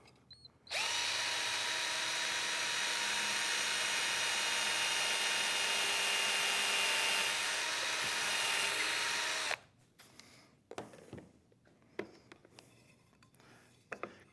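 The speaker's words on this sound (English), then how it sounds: "I'm going to drill my pilot hole." A power drill with a 6-inch, 1/8-inch bit whines steadily for about nine seconds while drilling a pilot hole, close and loud, then cuts off, followed by scattered clicks and handling noises.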